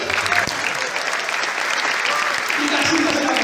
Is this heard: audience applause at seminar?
yes